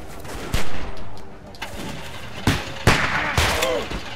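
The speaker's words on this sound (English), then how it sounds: "the shooting is so dumb on this gun" Gunfire in The Walking Dead Telltale video game: several sharp shots ring out, spaced irregularly with a couple in quick succession, over a background of game ambience and rumble.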